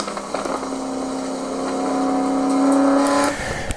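A Ford Mustang on a race track at Apex Motor Club accelerates hard, its engine note climbing steadily in pitch and loudness before backing off near the end, heard from on board without talk.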